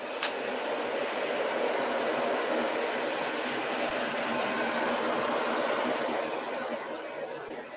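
A handheld dryer blows on a painted Halloween tombstone craft, a steady, loud whooshing hiss that runs unbroken and fades slightly at the end, close by, with no talking.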